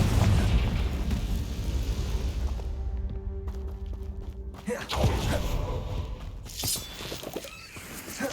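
A Confringo fire spell bursts in Hogwarts Legacy, a loud explosive crack with rumbling low-end debris and a second blast midway, set amid ongoing spell-casting combat noise.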